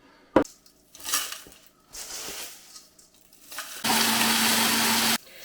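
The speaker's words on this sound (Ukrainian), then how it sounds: "І так я переблендерю всі овочі." A blender roars steadily for a second or so, loud and close, chopping vegetables after a few clatters and scraping kitchen noises.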